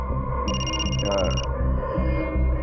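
A telephone rings with a bright, repeating electronic trill in short bursts over a steady musical drama soundtrack.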